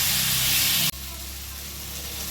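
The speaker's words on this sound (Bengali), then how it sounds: "এবারে আলুটাকে দিয়েও একটু কষিয়ে নিতে হবে।" Fried potatoes being stirred with cooked spice paste in a pan while the fish curry is made, giving a loud steady hiss and sizzle that cuts down sharply partway through to a quieter simmering crackle.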